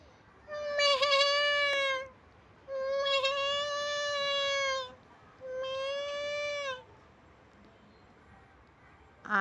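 A person imitates a goat's bleat in three long, wavering, nasal calls, each about two seconds with short pauses between, loud and close, ending with a brief sound at the very end.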